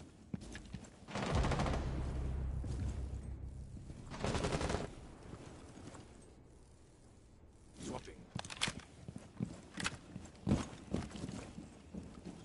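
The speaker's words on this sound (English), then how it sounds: "Just the sound of this fucking weapon" Weapon fire in a PS5 video game: bursts of rapid automatic gunfire, two long volleys early on, then a string of shorter sharp shots, with a voice talking between them.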